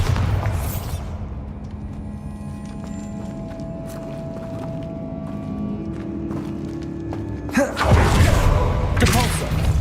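A Bombarda explosion spell cast in Hogwarts Legacy, a heavy booming blast that bursts out loud near the end after a stretch of quieter game ambience and thuds.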